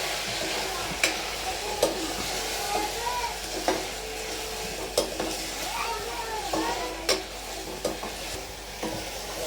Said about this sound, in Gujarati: મસાલા છે થોડી વાર આમ હલાવતા રહેવાનું.